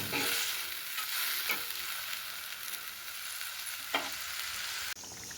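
Katla fish fries in hot oil, a constant bright sizzle with the occasional stir or scrape of a utensil breaking through, fairly close and without talk, ending with a sudden shift partway through the final second.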